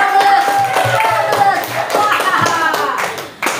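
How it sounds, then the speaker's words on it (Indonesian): Students in a grade 7 classroom clap for a classmate named Aska, a short burst of scattered hand claps near and fairly loud, mixed with a teacher's voice talking over them. "tepuk tangan dulu buat Aska."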